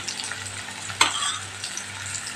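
Red chili powder mixture being stirred and fried in a kadai, a steady soft sizzle with one brief scrape of the spoon, close and alone.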